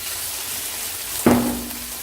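Ginger garlic paste hits hot oil with browned onions for a mince and potato curry, giving a sudden sharp sizzle burst that fades into a steady hiss, alone and fairly close.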